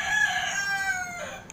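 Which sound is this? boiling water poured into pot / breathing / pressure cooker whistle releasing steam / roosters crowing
roosters crowing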